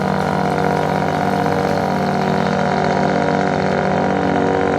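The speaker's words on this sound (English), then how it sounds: "that fisherman boat out there, it is making a lot of noise." A fishing boat engine hums continuously at mid pitch off Bar Harbor, Maine, loud and unbroken, chugging nearby with no voices.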